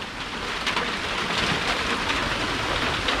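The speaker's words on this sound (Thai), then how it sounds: "ในฟ้าก็เริ่ม ครึมคร่ำครึมคร่ำฝนตกลงมาเรื่อย ๆ นะครับ" Rain falling steadily, a dense continuous hiss of drops at moderate loudness throughout, without talk.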